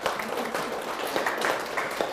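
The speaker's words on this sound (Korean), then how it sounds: "이러면 수준 있는 사람들은 박수를 칠 줄도 안 몰라요." An audience at a sermon breaks into applause, a steady wash of many hands clapping that holds evenly throughout.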